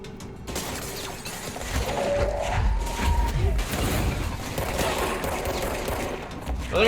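Shotgun blasts in the game Control, heavy booming shots inside a dense, continuous wash of combat noise and shattering debris.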